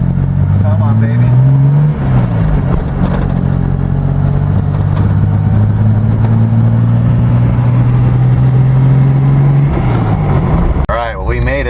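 A Datsun 240Z engine drones steadily while driving, its pitch climbing and settling through gear changes, loud and close throughout, with a person talking at times.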